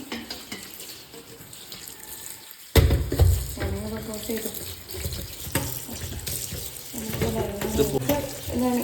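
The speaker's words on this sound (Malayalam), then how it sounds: "എന്നിട്ട് നമ്മൾ വെള്ളം ഒഴിക്കാം." Water splashes into a vessel meant for dyeing a dress. After a quiet start it comes in with a sudden loud gush, then keeps splashing and sloshing unevenly with some clatter of the container.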